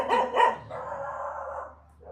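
Dogs bark twice in quick succession close by, followed by a drawn-out whining howl and a short final yelp, with no talk.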